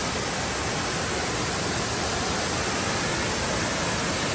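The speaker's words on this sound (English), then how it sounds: "Mommy wants to really see this waterfall up close." A waterfall roars as a dense, steady, broadband rush, heard up close and loud, with no voices.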